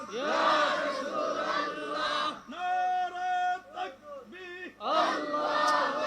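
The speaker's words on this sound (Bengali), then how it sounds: "একটা তাকবির দিবেন নারায়ে তাকবীর নারায়ে রিসালাত" A crowd at an Islamic religious gathering shouts a takbir chant in loud unified bursts, broken by a sustained melodic call and tonal pauses, with echoing public-address sound.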